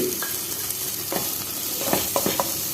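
Chilli, turmeric, pepper and garam masala powders get mixed into a hot pan for kothu chappathi, a constant sizzle carrying a few soft scraping strokes, close and steady, with no speech.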